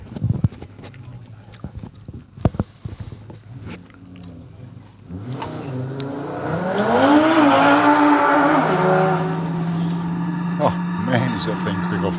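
A turbocharged Audi RS3 race car launches hard at a hillclimb after a few sharp clicks, its engine note swelling into a loud, rising wail that climbs through the revs and then holds steady, with voices faintly present.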